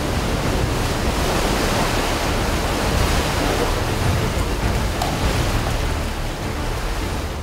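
Seawater churns and sloshes inside a sea cave at low tide. A dense, steady wash of water noise fills the space evenly throughout, with no voices.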